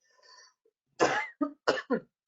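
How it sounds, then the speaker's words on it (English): A faint breathy sound, then a run of four sharp coughs close to the microphone, each cut short, with no talking. "I've got a cough."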